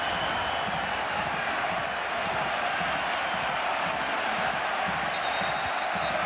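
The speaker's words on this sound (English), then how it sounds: "Ironic applause from the home fans for the referee." Home football fans at a La Liga stadium break into sustained ironic applause aimed at the referee, a dense steady wash of clapping and crowd noise from the stands with faint commentary underneath.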